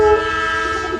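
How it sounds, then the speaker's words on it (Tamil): Train horn or whistle sound effect, a steady tonal blast with rumbling low rail noise, loud and brief, lasting about a second. "ட்ரெயின்"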